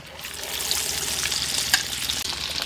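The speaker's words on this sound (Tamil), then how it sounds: "அப்படியே வச்சுக்கிடுவோம் எண்ணெயில்" Chicken 65 leg pieces coated in masala sizzle and bubble steadily in hot oil, with a dense, constant frying hiss and occasional sharp pops.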